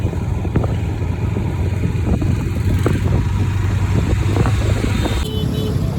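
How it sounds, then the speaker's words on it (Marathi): Cars and motorcycles crowd a narrow road in a traffic jam, a continuous rumble of idling engines with scattered horn beeps and clatter close around. "बघा इथं पूर्ण ट्रॅफिक जाम आहे"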